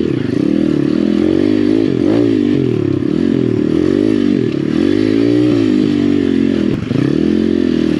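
An Apollo Chinese pit bike rides over very soft, soupy ground, its small engine loud and near, revving up and down repeatedly with occasional scraping and clattering.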